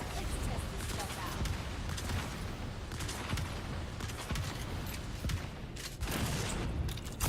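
Dense, continuous video game gunfire and explosive bursts fill the scene in a fire dungeon battle, loud and sustained with no pauses, layered rapid shots and booms throughout.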